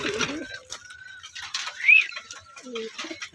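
Young racing pigeons coo and flutter close by in a short, sparse stretch of soft calls and rustling.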